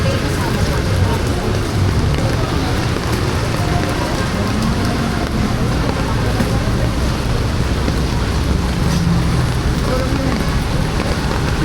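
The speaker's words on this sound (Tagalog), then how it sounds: "So napakalakas po ng ulan at hangin ngayon." Heavy rain pours down in a dense, unbroken hiss, with wind gusting through it, loud and close throughout, during a storm in Makati, Manila.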